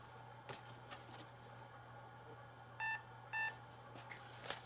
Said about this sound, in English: Sorry about the beeping, guys.